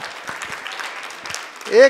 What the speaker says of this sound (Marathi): त्याला टाळ्या वाजवा.